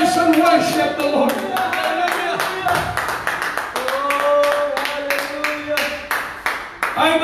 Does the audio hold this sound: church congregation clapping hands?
yes